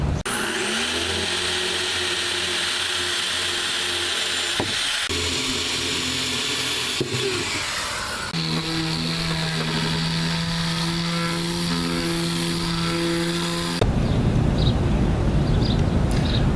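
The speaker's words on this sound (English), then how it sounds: "we just went over this entire project with 60 grit sandpaper" Painted wood on a DIY stuffed-animal play center is sanded with 60 grit sandpaper, producing a loud, continuous whirring drone that shifts in pitch and grit partway through, with no talking.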